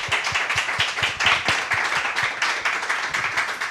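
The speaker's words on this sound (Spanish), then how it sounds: "aplaudan este cuento, el cuento es una maravilla." An audience claps at a book presentation, many hands in brisk, fairly dense applause held at a steady, moderately loud level throughout.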